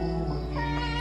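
A hungry cat meows steadily while eating a meal of chicken and milk, a close, continuous mewing voice that fills the whole moment with no talk over it.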